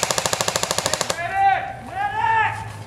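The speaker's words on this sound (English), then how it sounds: "Got a lot of protection fire going on here." Airsoft guns fire a rapid burst of about fifteen evenly spaced, loud shots during a skirmish game, then stop as players shout in the background.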